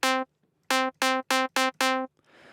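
Mid synth preset for a future house / bounce track, playing six short, evenly spaced stabbed notes with a bright, flat tone lacking deep lows, followed by a faint noisy tail, alone with no talk.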